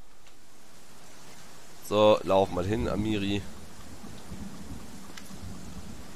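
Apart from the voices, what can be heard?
rain and thunder in video game Pathfinder: Kingmaker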